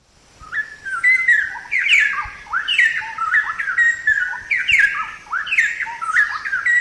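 Straw-headed bulbul calling among trees, a loud, rich run of bubbling whistled phrases repeated in bursts with short pauses, close and clear over a quiet background.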